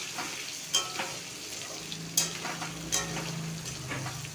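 Potatoes with turmeric fry in oil in a pan with a steady, even sizzle, broken by a few sharp taps and scrapes of a spatula stirring. No one speaks.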